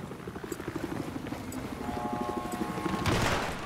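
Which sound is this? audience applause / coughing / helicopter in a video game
helicopter in a video game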